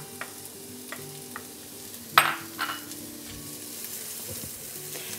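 Onion hitting hot oil in a pan gives a sudden loud hiss that settles into a quieter, steady sizzle, with a few faint clinks before it, close up and without talk.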